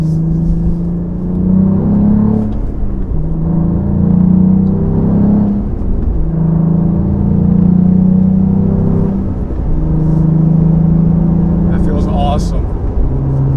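A 2023 Cadillac CT4-V Blackwing engine pulling hard while merging, a loud cabin growl rising and falling through several surges in revs, with a person talking over it.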